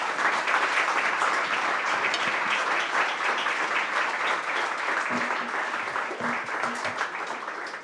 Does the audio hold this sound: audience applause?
yes